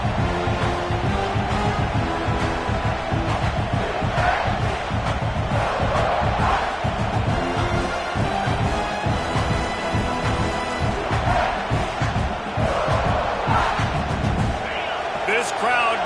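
Stadium crowd noise from a CFL football video game, a steady roar of cheering and chanting spread across the whole stretch with commentary speech over it.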